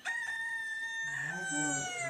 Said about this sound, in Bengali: এটা কুকুরুকু মুরগি